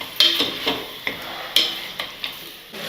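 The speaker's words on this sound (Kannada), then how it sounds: "ಇದರಲ್ಲಿ ಇರುವಂತಹ ನೀರೆಲ್ಲ ಚೆನ್ನಾಗಿ ಹಿಂಗೋವರೆಗೂ ನಾವು ಈ ಥರ ಎಣ್ಣೆಲೇನೆ ಹುರ್ಕೋಬೇಕು" Country chicken frying in oil for biryani, with crisp, fairly close sizzling and a series of sharp spatters and pops at an uneven rhythm.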